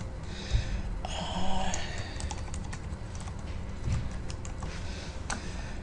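Fingers type data steadily on a computer keyboard, a close, continuous patter of key clicks with a few louder taps, and no voices.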